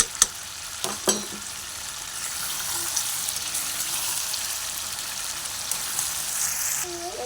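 Chicken fries in oil in a pan, a steady broad sizzle with a few sharp clatters from stirring near the start, with no talking.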